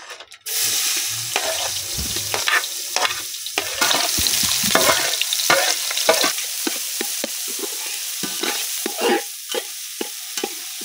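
Chopped onion hits hot groundnut oil with cumin seeds and sizzles loudly up close, while a spoon scrapes and stirs the pan in irregular strokes throughout.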